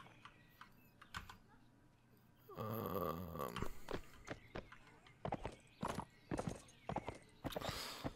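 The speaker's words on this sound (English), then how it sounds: "Oh, what a nice horse." Horse neighing in the video game Mount & Blade: Warband, a loud whinny followed by rapid irregular hoof clip-clops, mixed with keyboard clicking.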